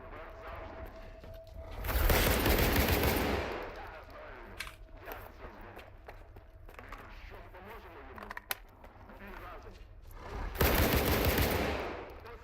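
Bursts of automatic gunfire in S.T.A.L.K.E.R. 2 as a player shoots at a bloodsucker, with two loud sustained volleys separated by quieter scattered shots and game ambience.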